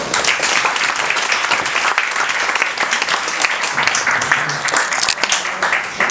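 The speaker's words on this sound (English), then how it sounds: "let's welcome Professor Oh with a big round of applause" Audience applause greets a professor taking the stage at an urban memory archive talk on Yongsan Garrison, a steady, dense burst of many hands clapping that fills the room for several seconds with no voices.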